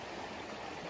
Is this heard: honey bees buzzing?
no